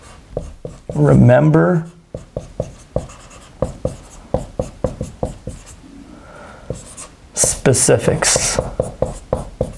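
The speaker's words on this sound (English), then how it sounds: "So let's write that down." A pen scratches out notes in a rapid run of short strokes, close and crisp, with a person speaking briefly at the start and end.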